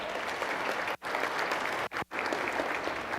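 Audience applause for event sponsors at a city State of the City gathering: steady, dense clapping from a large crowd, with brief breaks near one and two seconds.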